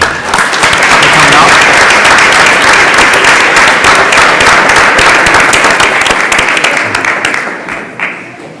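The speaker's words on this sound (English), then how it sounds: "Big round of applause for them." Sustained applause from a school board meeting audience honoring student award winners, loud and steady for about seven seconds before tapering off at the end.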